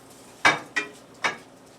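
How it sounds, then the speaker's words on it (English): Sausage is tossed into a cooking pan, making three quick clunks and clatters against the metal. The knocks are close and separated by short quiet gaps. "I'm just going to make a little bit of room for the sausage and just throw the sausage in"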